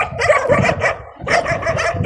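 Stray dogs on a residential street in Saudi Arabia bark repeatedly in two bursts of close, loud yaps and woofs, with a brief lull between them and no talking.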